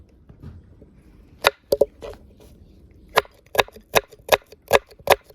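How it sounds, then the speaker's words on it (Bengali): A knife chops onions on a cutting board: a few sharp, isolated knocks, then a steadier run of crisp, close chops against a quiet background. "এজন্য আমরা প্রথমে পেঁয়াজটাকে সুন্দর করে কেটে নিচ্ছি"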